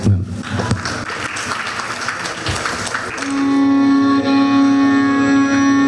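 An audience at a Hindu temple festival in Canada applauds to welcome a music performance. The clapping is dense and loud at first, then thins out as a sustained musical drone enters and holds steady underneath.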